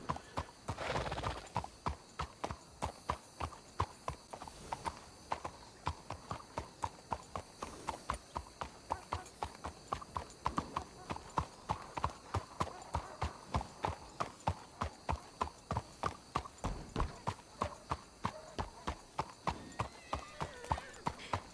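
Steady rhythmic clip-clop of a horse's hooves as it is ridden along roads in a Western video game, close and continuous, with a brief whinny near the start.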